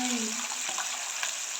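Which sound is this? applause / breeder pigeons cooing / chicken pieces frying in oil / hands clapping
chicken pieces frying in oil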